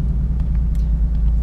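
Ford Mustang V8 of about 450 hp in normal drive mode, its exhaust giving a steady, fairly loud low rumble close by, with no voices over it.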